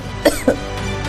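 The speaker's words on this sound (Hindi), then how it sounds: "वो खांसने लगी" Two quick, close coughs in succession, sharp and short, followed by a moment of quiet room tone.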